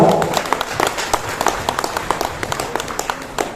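An audience at a foundation-stone ceremony for an exam training centre and Urdu hall claps in a dense, fast patter of many hands. The applause is loudest at the start and thins slightly over a few seconds.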